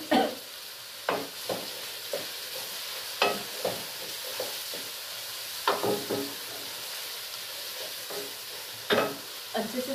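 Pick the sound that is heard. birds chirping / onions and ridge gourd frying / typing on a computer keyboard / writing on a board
onions and ridge gourd frying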